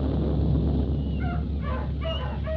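Dog whimpers and short yips from a sound-effect dog in an old-time radio drama, several high whining cries in the second half over a steady hiss, no talk.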